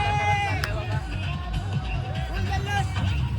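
A crowd at a pilgrimage procession on foot to Ekvira, passing through Airoli Koliwada, makes lively cheering and excited babble, close and dense, with voices shouting over one another.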